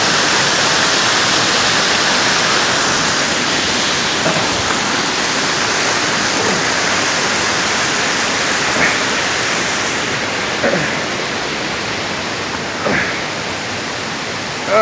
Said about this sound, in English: It's amazing of the sound of that water.